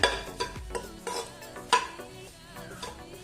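Ingredients lightly roasting in a pan, with a utensil tapping and scraping the metal in irregular clinks over a soft background, fairly quiet, no speech.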